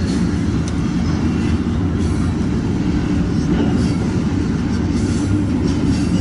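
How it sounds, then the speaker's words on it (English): A freight train rolls past on a railroad with a continuous heavy rumble and the clatter of wheels. The sound stays steady and fairly near the whole time, with no talking. "It depends on which way they're sending the train"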